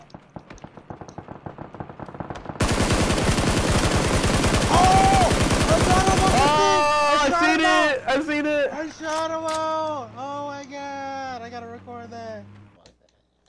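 Gunfire in a video game: several seconds of loud, dense automatic fire, then excited shouting voices take over with faint game sounds beneath.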